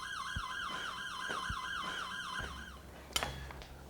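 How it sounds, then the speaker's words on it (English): A home security alarm sounds with a rapid warbling electronic tone repeating steadily, cut off near the end by a sharp click and thud. "The master console sounds an audible alarm to let the residents know that a break-in's occurring."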